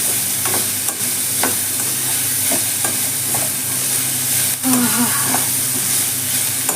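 Garlic rice sizzling steadily in hot ghee in a pan, a dense continuous frying hiss close up, with occasional scrapes and taps of a stirring spoon.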